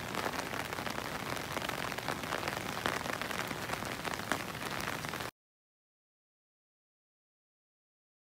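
Heavy rain pours down around a bridge at a lake park, a dense close hiss of drops on surfaces lasting about five seconds before cutting abruptly to silence.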